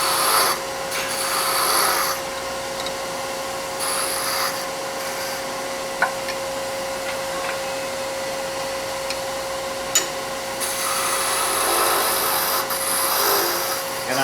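A skew chisel cuts a wooden Christmas ornament spinning on a lathe, giving a close, rough rubbing and scraping hiss that swells in bursts over a constant motor hum, with a couple of sharp clicks.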